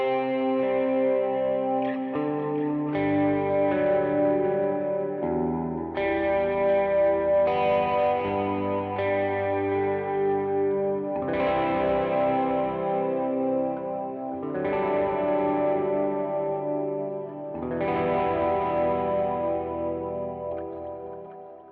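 An electric guitar played through a worship pedalboard rings out chords drenched in massive, long-decay ambient reverb, each chord swelling and blending into a continuous wash of sustained tone.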